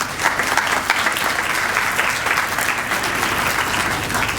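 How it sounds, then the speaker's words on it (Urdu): A church congregation at a New Year worship service claps for a child, a dense, steady round of applause that carries on evenly from start to end with no break. "تالیاں بجائیں اس کے لیے"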